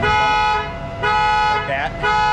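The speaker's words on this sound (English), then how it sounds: "The alarm is like triggering every time." A loud muscle car alarm blares in repeating pulses of a harsh, horn-like tone, each lasting about half a second with short dips between, at a car show setup.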